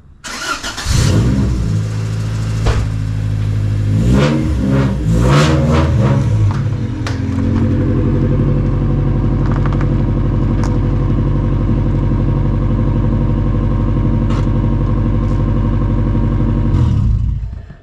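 A 1992-1995 Honda Civic starts up close by, revving a few times before settling into a steady, loud idle that holds until it cuts off at the end, with no talk.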